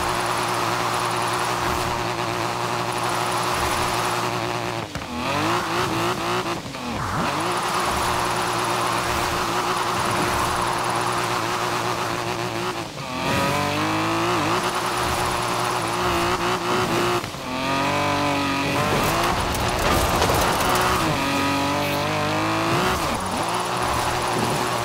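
Car engine revving and shifting through gears in Forza Horizon 4, with sweeping pitch glides and bursts of tire squeal as the car drifts, loud and continuous throughout.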